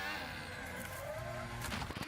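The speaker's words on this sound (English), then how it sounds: "you can hear his throttle go down as he hit the wall" A race car crashing into the wall during a qualifying session, its engine note sustained and rising as the throttle opens, with tire noise and a rough burst of impact near the end.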